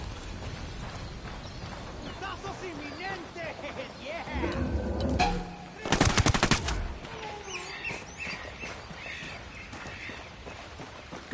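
Machine gun fire in the video game Ghost Recon Wildlands, bursts of shots scattered under game sound, with one loud, dense volley of rapid shots standing out midway, close and sharp.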